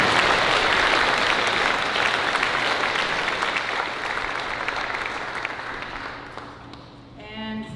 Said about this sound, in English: Let's give Wiikwemkoong LDM a round of applause.